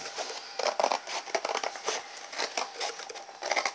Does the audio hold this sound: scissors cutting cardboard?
yes